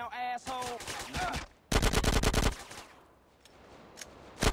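Gunfire in the video game GTA San Andreas: rapid automatic bursts crackle in several loud volleys with short gaps between them, followed by a few scattered single shots, heard up close.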